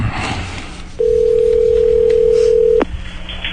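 A telephone dial tone sounds after a line is disconnected: a loud, steady single-pitch hum lasting nearly two seconds before cutting off abruptly, with background noise before and after.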